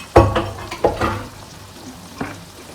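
Onion and scallion frying in a pot, a few loud sizzling bursts as pieces hit the hot oil and get stirred, fading to a softer steady crackle between them.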